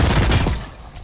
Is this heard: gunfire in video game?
yes